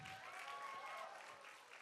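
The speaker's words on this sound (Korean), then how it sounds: "주님께 박수를 치려면 10초 이상 칩시다." A church congregation claps together in sustained, dense applause, steady and moderately loud, with a faint voice or cheer showing through the clapping.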